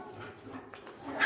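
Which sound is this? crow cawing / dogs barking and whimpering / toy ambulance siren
dogs barking and whimpering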